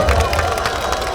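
A crowd at a Korean outdoor political campaign rally for a district mayoral candidate near Balsan Station gives a short, loud burst of cheering and clapping, with voices mixed into the noise.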